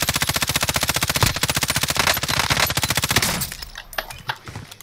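Rapid automatic gunfire in a shooter video game, a loud sustained burst of evenly spaced shots that breaks into scattered single shots and clatter near the end.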